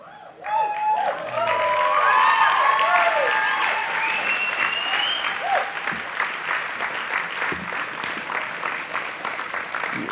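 Convention audience applauds loudly and steadily, a dense wash of clapping from a large crowd that swells at the start and holds for the whole stretch, with faint voices mixed in.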